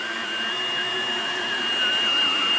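Hoover Blade Plus vacuum cleaner running close by, giving a steady high-pitched whine with a faint airy hiss, at moderate volume and without any speech.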